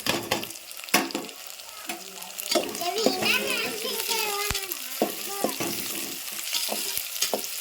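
Dried red chilies and a cut tomato fry in oil in a home kitchen pan, sizzling steadily with stirring clatter and a few sharp knocks, while children's voices sound faintly in the background.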